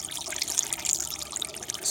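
Coolant poured into the reservoir of a Dodge Caravan, a continuous close liquid trickle and splash with steady gurgling, no talk.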